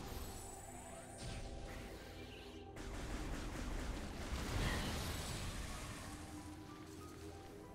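Rushing, wave-like water from the video game Metroid Prime Remastered fills the scene as a steady broadband wash, swelling louder around the middle, with a few game tones over it.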